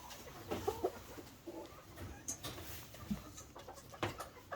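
Tropical fowl chickens in a winter coop in the Midwest clucking and murmuring close by in short repeated bursts, with soft rustling between calls.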